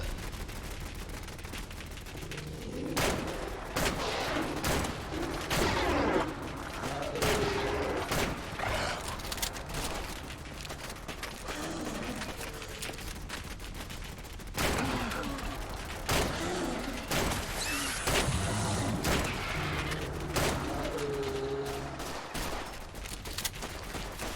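Automated turrets firing at zombies during a zombie attack in the video game Fallout 4, dense sustained volleys of gunfire with rapid bursts and booms, loud and continuous throughout, with a voice briefly underneath.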